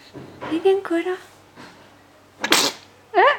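A person sneezes once, a short loud burst near the end of a lively moment with someone talking and laughing to a baby; a brief squeal follows the sneeze.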